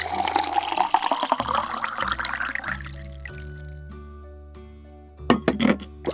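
Tea pours from Mrs. Potts, an animated teapot in a Mickey Mouse Clubhouse cartoon, a rising trickling pour that fades into a soft musical chime, followed by a short burst of bright sounds.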